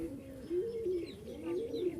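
A male Giribaz pigeon in breeding condition cooing close by, two or three rolling coos repeated in a steady rhythm, heard alone without talk.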